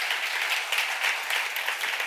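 Church congregation at a seminar clapping together, a dense, even patter of many hands heard at moderate distance, steady and unbroken for a couple of seconds.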